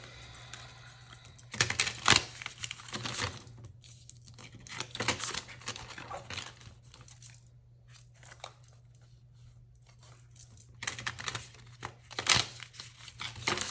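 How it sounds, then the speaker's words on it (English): Oracle cards being shuffled in short bursts of riffling and flicking, close and crisp, separated by quiet pauses, with no talking. "Let me shuffle a little bit."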